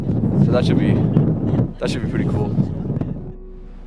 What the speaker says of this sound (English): You can hear the wind howling behind me